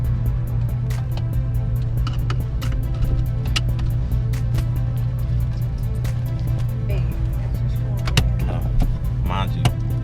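A Chevrolet Camaro SS with a manual transmission idles and pulls away with a steady low engine drone inside the cabin, joined by scattered clicks and interior clatter while people talk over it.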